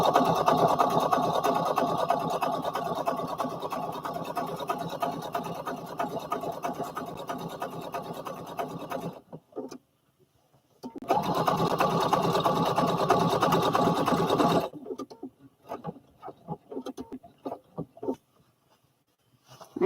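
A sewing machine stitches a Simplicity 8855 pattern in two steady runs, about nine seconds and then three more, with a short pause between and near silence after.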